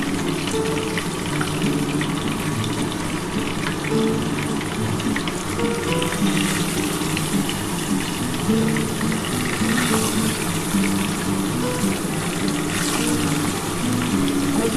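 Pabda fish frying in hot oil in a restaurant-style home kitchen: a dense, steady, loud sizzle with bubbling crackle that runs unbroken for the whole stretch, with no voices over it.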